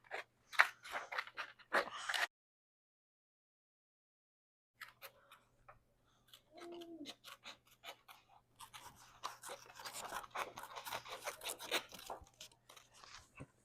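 Scissors snip repeatedly through stiff cardboard, close up, in uneven bursts separated by a silent pause.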